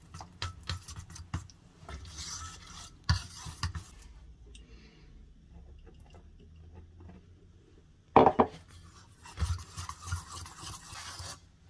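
A fork stirs hot-water dumpling dough in a bowl, giving soft scraping and ticking clatters in uneven bursts, with a quieter stretch midway before louder, closer scrapes resume.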